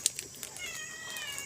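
A cat meows in a kitchen during home cooking of a dinner dish, a short close cry at the start and a fainter one after, over a quiet background with no talk.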